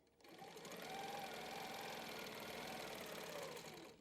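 A Handi Quilter longarm quilting machine stitches close up in a steady, rapid mechanical whir that holds evenly for a few seconds before stopping.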